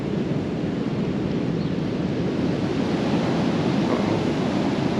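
Floodwater rushing down a flooded street in Maine makes a continuous loud broadband roar, steady and close with no pauses.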